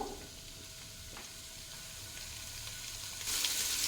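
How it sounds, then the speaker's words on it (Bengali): Vegetables frying in a pan on high flame, a steady soft sizzle held close and even, swelling into a brighter, louder hiss near the end. "তো এখন এই সবজিগুলোকে একটু ভেজে নেব।"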